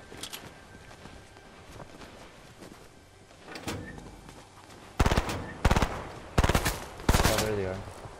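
Gunfire in Fortnite: after faint background shots, four loud, sharp bursts of rapid automatic fire come at roughly even intervals, each a short rattling volley, with game movement sounds between them.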